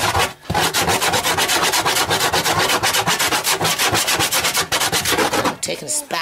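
Vigorous, rapid back-and-forth scrubbing of a dirty stove oven with baking powder, loud and close, in a fast, steady rhythm of harsh rubbing strokes with no voices.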